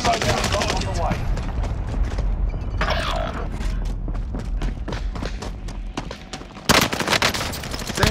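Dense, continuous gunfire from Call of Duty: Modern Warfare multiplayer, with rapid overlapping bursts and thuds of a firefight, close and loud throughout, peaking in a sharp volley near the end.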